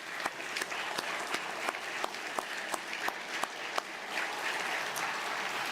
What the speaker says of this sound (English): can we give John just a round of applause